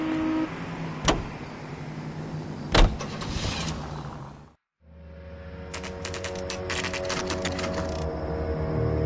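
A car driving in the video game L.A. Noire, a steady engine drone with a couple of sharp knocks, a brief dropout, then the engine resuming with clicking ticks layered on top.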